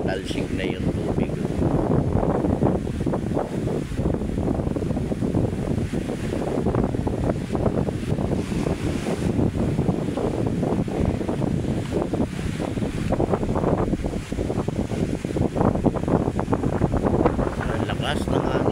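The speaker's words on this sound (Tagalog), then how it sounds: "Lakas ng hangin, guys." Strong wind roars across Manila Bay with waves washing and splashing against the shore, a steady, loud, rushing mix of gusts and surf with buffeting on the microphone.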